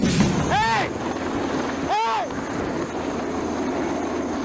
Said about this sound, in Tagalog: pinapahanginan ng helicopter ng Chinese Navy sa Sandy Cay 3 o sandbar malapit sa Pag-asa Island